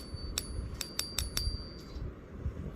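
Silver coins tapped in a ping test give a series of five sharp metallic strikes, each followed by a clear, sustained high ring that lingers for about a second, heard close against a quiet room hiss.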